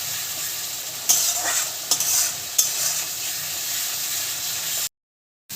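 Spice paste for a kalbasu fish bhuna is stir-fried in oil, giving a close, continuous sizzle and hiss with a few sharper stirring scrapes before it cuts off abruptly near the end.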